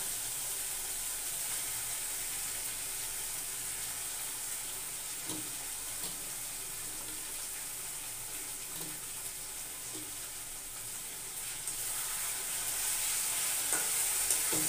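Fish fries in a cooked, oily spice paste with a steady, soft sizzle, accompanied by occasional light stirring taps; quiet and even, with no talking.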